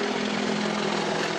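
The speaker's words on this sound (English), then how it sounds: "these Russian attack helicopters had violated its airspace" Russian attack helicopters flying over Crimea give off a steady, droning rotor and engine rumble that holds evenly throughout, with no voices.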